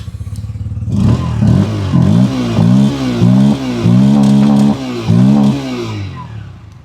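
A 2025 Bajaj Pulsar N160 motorcycle engine revs in repeated bursts close up, about seven throttle blips in a steady rhythm, each rising and dropping, then settling back to idle.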